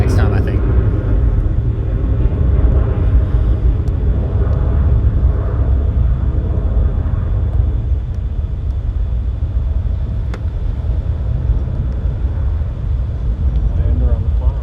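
A Boeing C-17 military transport plane takes off from Charlotte Douglas Airport, a steady, deep, roaring rumble that holds for the whole stretch, heard from a distance with voices talking over it.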